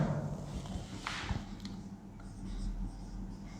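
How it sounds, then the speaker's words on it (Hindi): Writing on a board during a Class 12 physics lesson on electrostatics, a short scratchy burst of strokes in a quiet classroom with low background hum and no talking. "यहां लिखता हूं मैं"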